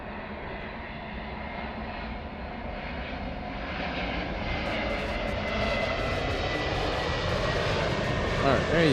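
A Southwest Airlines airliner's engines roar in a steady, broad rush that grows gradually louder and nearer across the clip, with a brief sharper rise at the very end.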